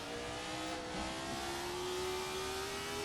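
A race car's engine revs and pulls hard at steady high throttle, its rising tone carrying continuously around a Nordschleife-style circuit, loud and close with no talk.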